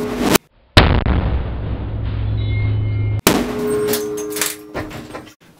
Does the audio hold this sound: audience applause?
no